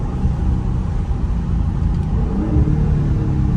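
Loud, close engine rumble from a 2023 Dodge Charger Scat Pack Last Call as it downshifts in traffic, a dense, steady growl with slight swells and no voices over it.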